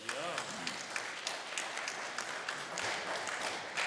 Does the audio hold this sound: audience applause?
yes